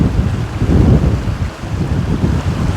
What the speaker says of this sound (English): the sound of the wind, the water moving through spiraling, rounded rocks